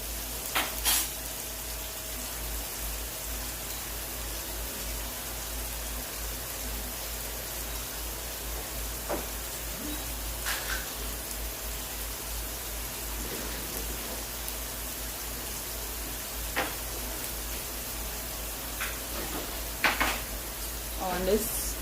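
Sausage and tomato frying in a pan for breakfast, a steady soft sizzle running throughout with occasional faint clinks and taps of a utensil.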